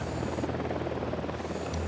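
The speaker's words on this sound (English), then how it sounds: "Deploying drone." A surveillance drone is launched in the video game Ghost Recon Wildlands, giving a steady, close whirring buzz like small rotors that holds evenly for about two seconds with no talk over it.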